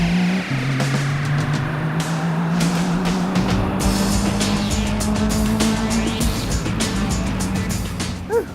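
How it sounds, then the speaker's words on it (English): A Porsche sports car circling a race track, its engine droning steadily and climbing slowly in pitch as it pulls along, loud and close throughout. "All this talk about racing got Anthony itching to take his own Porsche for a spin."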